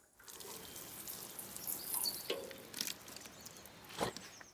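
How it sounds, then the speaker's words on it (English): Water poured onto compost in a garden vegetable container before sowing carrot seeds, a steady soft splashing and trickling that swells and fades over a few seconds, close and moderately quiet. "What I'm going to do now is give the compost a water."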